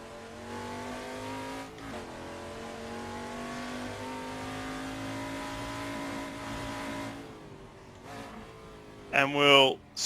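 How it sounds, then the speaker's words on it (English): Ford Falcon Group C touring car in Assetto Corsa, its engine droning steadily at moderate revs as it slows into pit lane, then cutting out, followed by a short burst of a voice. "So let's bring the big Falcon into pit lane now."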